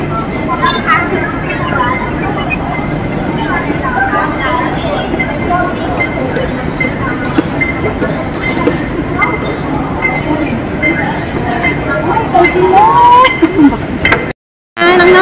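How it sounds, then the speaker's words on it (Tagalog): An airport people-mover train at Hong Kong airport rumbles along with a steady low roar, close and loud, carrying on for the full stretch with brief squeals near the end while a person talks over it. "sasakay na po kami ng train para makarating kami ng 44 gates"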